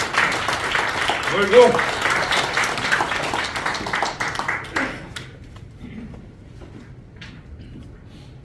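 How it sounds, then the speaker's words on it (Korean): Audience at a retired generals' association general meeting applauds in congratulation, brisk clapping for about five seconds that then cuts off into a quiet room, with a voice briefly heard. "다시 한번 박수로 힘차게 축하해 주시기"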